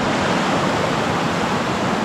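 Steady, loud rushing of a river at a fork in a stream in the Kaweka backcountry, a constant broadband roar of flowing water with no pauses and no voices.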